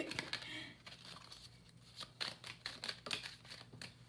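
Tarot cards are shuffled close by in soft, quick riffling bursts and papery slides, repeated several times at a low, quiet level.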